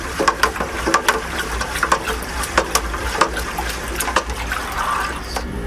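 Warm water pours steadily into a large winemaking container, a continuous splashing, gurgling stream with small irregular sloshes, close and fairly loud throughout.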